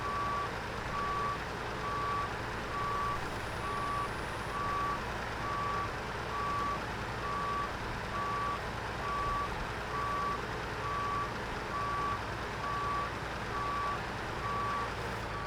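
A truck's reversing alarm beeps in a steady, evenly spaced rhythm for a long stretch over a low engine rumble, with no voices.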